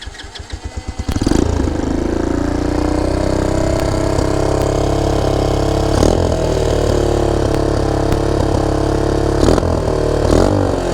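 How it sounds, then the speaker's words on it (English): A Boom Vader Grom clone motorcycle with a slip-on exhaust starts after a few cranking pulses, then settles into a loud, close, steady idle with occasional blips of the throttle. "now I'm going to do a little startup here, rev it for you guys, let you listen to it"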